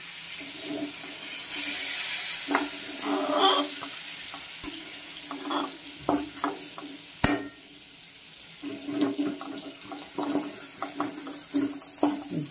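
Sliced pointed gourd (potol) fries in oil in a pan, sprinkled partway with salt and turmeric, giving a steady sizzle broken by intermittent scraping and stirring clatters from a utensil.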